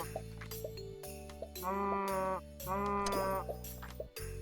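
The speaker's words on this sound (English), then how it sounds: "Let's play our happy little cow friends." Cartoonish cow moos from the video game Terracards come in two drawn-out calls with pauses between them, set over looping background game music.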